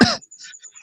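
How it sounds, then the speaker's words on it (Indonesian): A single short cough bursts out close up at the start, followed by faint breathy sounds in an otherwise quiet moment. "Aku batuk"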